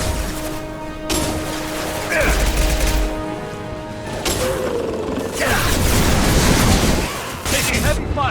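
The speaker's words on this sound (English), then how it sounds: "Taking heavy fire!" Heavy gunfire in Mass Effect 2 comes as loud, sharp bursts and booming impacts, mixed with mechanical clanks and ratcheting weapon sounds, while voices call out over the combat.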